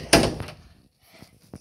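A household door swings shut with one loud, close thud, followed by a few fainter knocks and clicks as it settles, with no talking.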